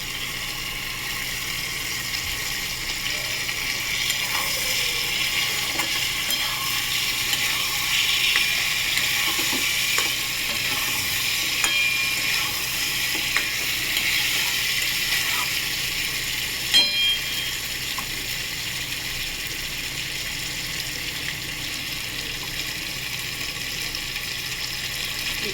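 Egg curry with fried eggs fries in oil over a high gas flame, giving a steady hissing sizzle with occasional soft spatula taps and stirring scrapes. The sound is fairly even throughout, and no one speaks.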